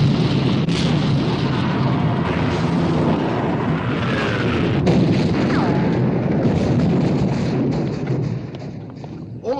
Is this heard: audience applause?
no